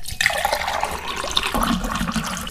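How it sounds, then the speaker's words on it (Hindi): Cold spring water flows and splashes out of a tunnel in the mountains of Khyber Pakhtunkhwa, a steady close rushing gurgle with no speech. "ये वो सुरंग है जहाँ से पानी निकलता है"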